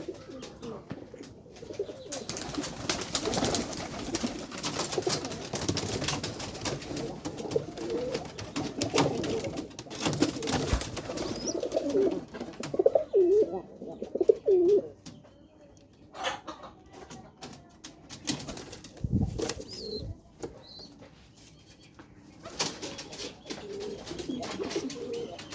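Pigeons coo repeatedly in a coop where they nest on eggs, soft throaty calls overlapping with other bird sounds and occasional handling noises nearby.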